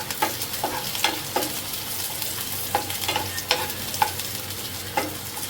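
Garlic, dried red chillies and a small piece of tamarind sauté in a pan, crackling and sizzling continuously while a spatula scrapes and knocks against the metal every half second or so, close and fairly loud.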